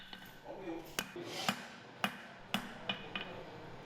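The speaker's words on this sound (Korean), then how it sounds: "쇠를 자르고 붙이고 망치로 두들기며" A hammer pounds metal in a blacksmith's forge, sharp ringing strikes landing roughly every half second, six or seven blows in all, over a faint background of narration.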